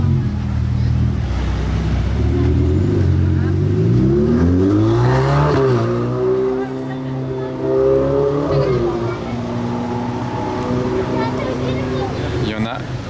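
A Ferrari Pista on a Monaco street gives a loud, sustained exhaust roar whose pitch climbs sharply mid-way and then falls back, close by, with voices mixed in underneath.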